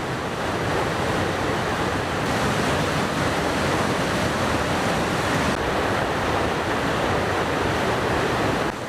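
The Chorrillo del Salto waterfall near El Chaltén, about 25 metres high, pours in a dense, steady roar of falling water that stays constant and unbroken throughout, close and enveloping.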